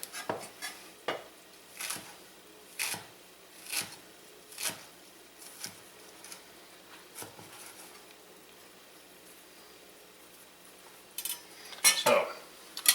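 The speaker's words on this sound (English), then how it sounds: "Stack them up, roll them up, and we're just going to take my knife" Chef's knife slicing a roll of stacked basil leaves on a cutting board for a crabmeat pasta, a steady series of about ten crisp close chops, then a pause and a brief clatter near the end.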